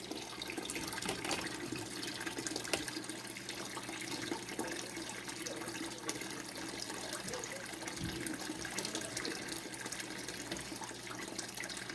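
An aquarium gravel vacuum siphons water into a bucket, a continuous gushing, splashing flow that stays steady and close throughout.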